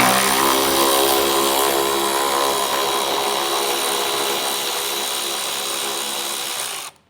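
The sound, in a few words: removing a 10mm bolt on a Jeep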